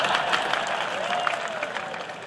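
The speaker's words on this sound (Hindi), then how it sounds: "जरा ताली बजा देना।" An audience at a Hindi poetry gathering claps steadily and continuously, a dense, even wash of applause heard from within the hall.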